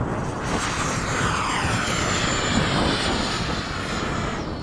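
Radio-controlled model jet powered by a balanced FMS/Eflite 80mm 12-blade electric ducted fan passing by at the flying field, a steady loud whooshing jet roar that sweeps through without pause.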